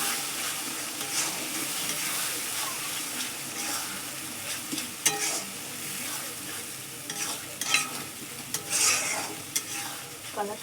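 Onions fried reddish-brown sizzle in a pan with added spice paste for a meat dish, a steady close hiss broken by occasional scrapes and knocks of the stirring spoon, with no voices.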